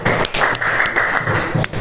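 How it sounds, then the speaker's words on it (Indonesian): A classroom of students gives a short burst of clapping, dense and close, lasting under two seconds with a few louder individual claps. "Beri tepuk tangan untuk Mas Nizar."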